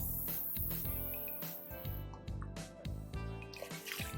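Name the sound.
water being poured in for cooking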